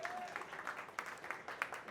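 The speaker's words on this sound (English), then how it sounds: "Can I get a round of applause for that?" Conference audience giving a round of applause in a hall, faint, fairly distant crowd clapping with a few sharper individual claps standing out, while a voice briefly carries over it.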